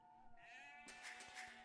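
Sheep in Age of Empires II giving a short bleat, followed by a brief burst of game clicks and effects, faint and quick.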